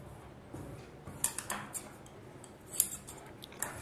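Scissors snip through blouse lining fabric in a handful of quiet, crisp clicks at uneven intervals, close by in an otherwise hushed room.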